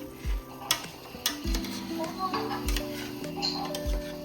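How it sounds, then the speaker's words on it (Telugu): Soaked biryani rice being stirred into masala in a pot for a village-style chicken biryani: a few soft scraping, clinking stirs with gentle sizzling under a steady background tone. "బిర్యానీ రైస్ వేసాక ఒక్కసారి కలపండి చాలు"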